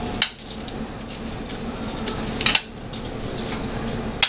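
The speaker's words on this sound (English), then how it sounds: "I'm gonna add some of my spinach." Spinach dropped into a metal soup pot, with a few sharp clanks of utensil on pot, the loudest near the start, middle and end, over a steady low kitchen hum.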